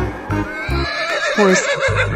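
A horse neighs loudly and close by, a long shaky whinny with rising and falling pitch, alongside a few low thumping sounds.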